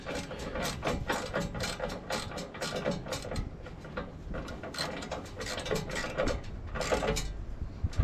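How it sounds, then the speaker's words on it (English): A ratcheting torque wrench tightens a bolt on a fifth wheel hitch in a 2018 Ram 3500 dually, clicking in steady rapid runs with brief pauses between strokes, close and clear throughout. "I'll be able to just use the torque wrench on it."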